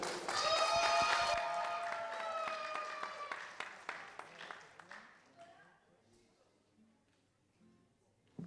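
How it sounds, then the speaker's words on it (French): Applause from an audience swells loudly at first, with bright tonal sounds over it, then thins out to scattered claps and quiet. "Un tonnerre d'applaudissements, s'il vous plaît."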